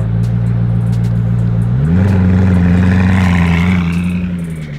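A loud, close turbocharged Koenigsegg supercar engine revs with a deep steady drone that climbs in pitch partway through, holds high, then eases off; no voices.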